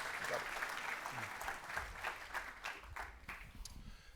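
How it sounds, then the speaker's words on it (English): A crowd at a political breakfast event applauds for two candidates, with steady clapping from many hands and a few murmured voices mixed in underneath. "If we could please have a round of applause for both candidates."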